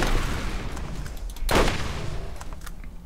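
An SMG in Borderlands fires one short, loud burst of rapid shots in the middle, with quieter game sounds before and after.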